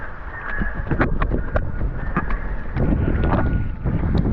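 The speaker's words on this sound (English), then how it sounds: "there's some big old swell now, and wind's picking up." Wind gusting over a small parawing sailboat at sea in a building swell, a loud, continuous rough roar of wind buffeting the microphone with low rumbling water movement beneath, steady throughout with no talking.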